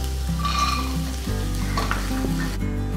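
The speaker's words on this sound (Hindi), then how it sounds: "जैसी हमारी मूंगफली भुन जाती है" Peanuts roast in a pan with green chilies and chopped ginger for a Punjabi samosa filling, giving a steady, loud sizzle with a low continuous hum and occasional stirring scrapes, no voices.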